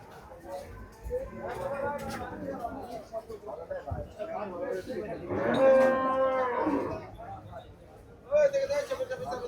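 Cattle at the Gabtoli cattle market give a few loud, drawn-out moos over crowd noise, with people talking nearby.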